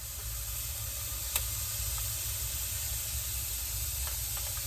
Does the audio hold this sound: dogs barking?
no